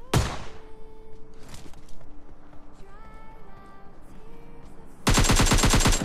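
Gunfire in a shooting video game, with a single sharp blast at the start, quieter game tones and ambience in between, then a loud, rapid automatic burst filling the final second.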